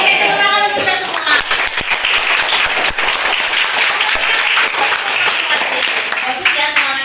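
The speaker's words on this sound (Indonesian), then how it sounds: "tepuk tangan untuk kita semua" Loud applause from a classroom of students, dense rapid clapping close by with voices mixed in underneath throughout.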